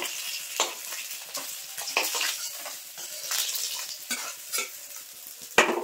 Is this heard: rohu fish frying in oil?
yes